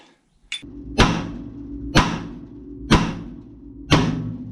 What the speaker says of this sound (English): Got our impact with a 7/8 on there and a wobbly socket. Bust that lower ball joint loose.